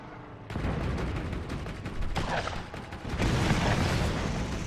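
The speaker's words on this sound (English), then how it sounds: "I hate it when they friggin' shoot their rockets." Enemy rocket fire during a Borderlands firefight, a dense, continuous roar of blasts and gunfire that surges loudly after a quiet opening and stays heavy throughout.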